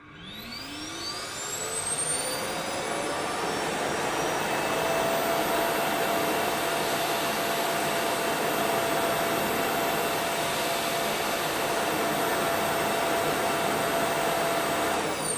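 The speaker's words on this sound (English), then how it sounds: "Here's what it sounds like when a clean station is in action." A Samsung Jet Bot AI+ clean station empties the robot vacuum's dustbin with a loud, steady suction roar. It spins up over the first couple of seconds, then holds a constant whine with a high tonal hum, and no one talks over it.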